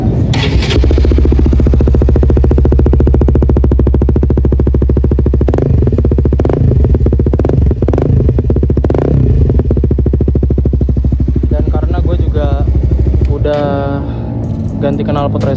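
A CBR 250R motorcycle runs close by with a deep, steady engine and exhaust drone. Sharp throttle blips punch through the drone before it breaks up into rougher revving near the end.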